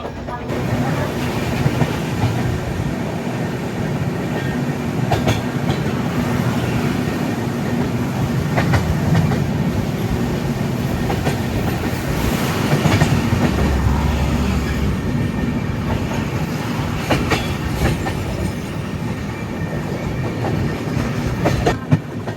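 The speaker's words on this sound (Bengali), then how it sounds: "আমাদের ট্রেন একদম রাইট টাইমে ছাড়লো" An Amrit Bharat Express train running from Malda to Lucknow rumbles steadily with rhythmic clickety-clack of wheels over rail joints, a loud continuous ride noise heard from inside the carriage, with faint voices in the background.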